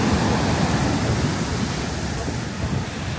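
Ocean waves washing onto a black sand beach along the Road to Hana in Maui, a loud, close, broadband rush of surf that fills the short stretch with steady noise.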